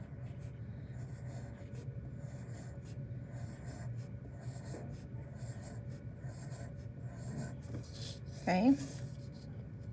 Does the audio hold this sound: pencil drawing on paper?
yes